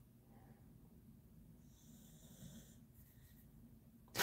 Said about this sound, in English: Snoring dog.